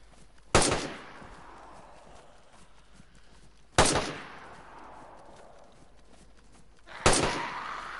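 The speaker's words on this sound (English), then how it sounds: "Me shooting you." Single heavy gunshots in a zombie survival video game during a base raid, three loud isolated blasts spaced about three seconds apart, each with a long echoing tail, no talking.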